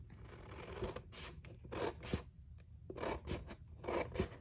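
Cutting junk journal kit paper with scissors, a series of close crisp snips and rustling scrapes in irregular strokes, no talking.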